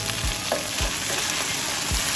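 Green beans fry in a pan with a steady crackling sizzle. Several low thumps from stirring recur through it.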